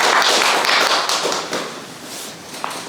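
Applause at a study meeting on social housing cooperatives: a dense burst of clapping that starts loud and slowly thins out over a few seconds.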